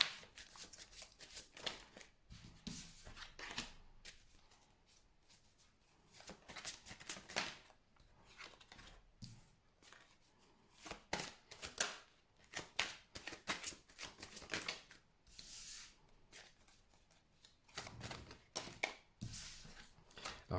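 Tarot cards being shuffled by hand and drawn one at a time, a series of soft riffling and flicking bursts that come in irregular clusters, quiet and close, with brief pauses between them.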